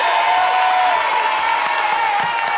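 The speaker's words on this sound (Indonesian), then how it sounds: "Tepuk tangan dong, sekali lagi dong." A studio audience on an Indonesian game show applauds and cheers in a dense, steady roar of clapping with a few faint whoops, continuous and fairly loud throughout.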